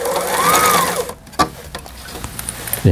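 A Brother SF3700 sewing machine stitching in reverse, a loud close mechanical whir with a rising-falling motor tone, followed by softer clicks and knocks.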